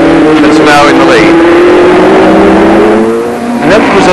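A Tasman formula race car with a rear-mounted Phil Irving–designed Repco 2.5 litre engine screams loudly past at Oran Park raceway, its rising and falling engine note sweeping through gear changes, with a second car's whine joining near the end.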